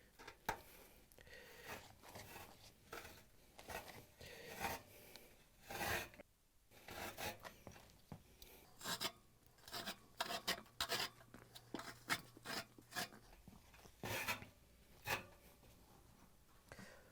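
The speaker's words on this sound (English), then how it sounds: "We're just going to cut it with a razor blade and pull it off." Razor blade slicing through an old glued felt seal on a Whirlpool dryer drum lip, soft scratchy cutting and tearing in short irregular bursts, close and quiet.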